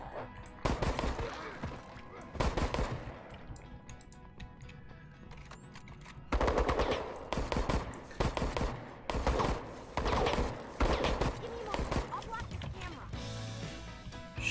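Gunfire in Resident Evil Resistance comes in several loud, clustered bursts of shots separated by quieter gaps, mixed with thumps while players talk over the action.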